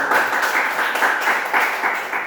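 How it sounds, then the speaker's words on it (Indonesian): Steady applause from a classroom group of children, continuous clapping with slight pulsing swells, fairly close and filling the whole moment without speech over it. "Tepuk tangan untuk kita."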